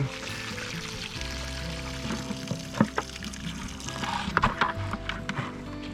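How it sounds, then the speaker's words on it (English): Water tipped out of a container beside a small farm dam while catching yabbies, a continuous splashing pour with scattered drips and knocks, close and moderately loud. "So what I'm going to do, I'm going to tip all this water out here for a minute."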